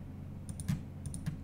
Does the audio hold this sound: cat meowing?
no